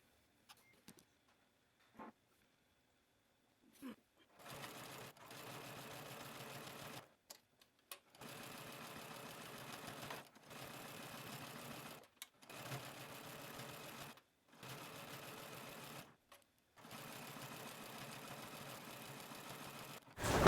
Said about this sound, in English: I'm gonna head over to my sewing machine.